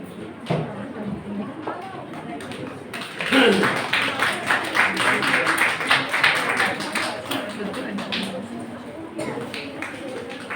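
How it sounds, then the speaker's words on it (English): An audience greets arriving guests at an international conference with a round of applause: dense, steady clapping swells around three seconds in and continues to the end, with a voice talking over it. "Please engaging with a big round of applause for them"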